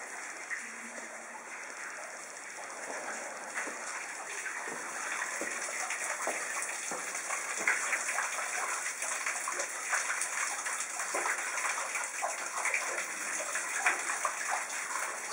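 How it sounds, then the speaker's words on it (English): Water dripping and trickling into a small pool inside Zedekiah's Cave, a quiet cave drip with soft irregular splashes over a faint steady hiss, no talking. "water drips into a small pool known as Zedekiah's tears"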